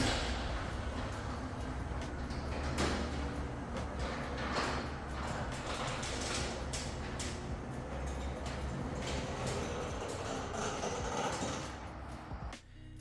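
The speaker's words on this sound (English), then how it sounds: "Let's test the garage door to see how loud this sucker is." A side-mounted garage door in a newly built modern home rolls open with a continuous mechanical rumble and rattle, steady and fairly loud, cut off abruptly as it stops near the end.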